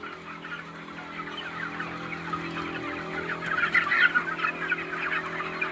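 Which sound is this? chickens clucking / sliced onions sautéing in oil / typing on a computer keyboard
chickens clucking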